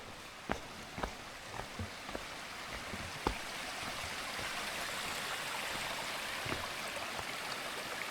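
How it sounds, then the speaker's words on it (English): A small seasonal mountain stream fed by winter snowmelt where the Cascades meet the sea, giving a steady, close rush of trickling water with a few scattered knocks and taps early on. "it creates these little streams that come here seasonally"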